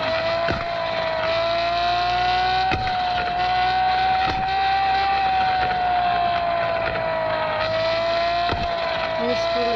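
A car drives fast, its engine holding a high, slightly wavering whine over road noise, with a few sharp knocks and bumps along the way; people talk over it.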